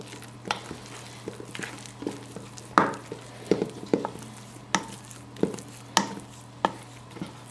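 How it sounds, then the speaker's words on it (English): A spoon stirs and scrapes flour dough around a bowl for cinnamon rolls, giving a series of sharp knocks and scrapes at an irregular, steady pace, close and fairly loud, with no talking. "use your spoon to pick up all the flour that's in the bottom and on the side of the bowl"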